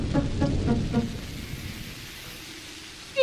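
Cartoon rain falls at night, a steady soft patter and hiss with low rumbling pulses early on, fading to a thinner drizzle before a brief louder burst at the end.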